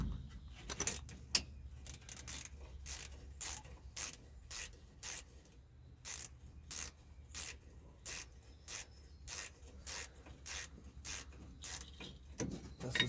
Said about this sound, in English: I'm using a 12mm ratchet wrench to get the bolts off for the caliper.